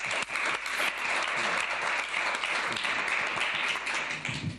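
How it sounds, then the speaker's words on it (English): Steady applause from a large audience at the World Economic Forum, dense continuous clapping that holds for the whole stretch and fades slightly at the end. "So please give him a round of applause."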